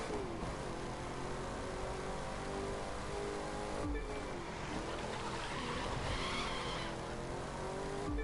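A Ford Mustang drifts in the racing video game The Crew 2, its tires skidding and squealing over a steady engine roar that fills the whole stretch without pause.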